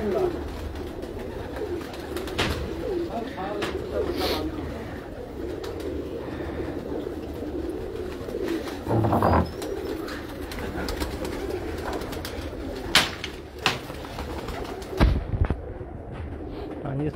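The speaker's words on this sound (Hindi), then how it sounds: "अच्छा कबूतर है, लाल आँख है, सोहेल खान वाला पुराना कबूतर कमागरों में है" Rooftop pigeons with red eyes coo repeatedly, close and clear, over steady background murmur, with a few sharp knocks and wing-like bursts near the end while people talk nearby.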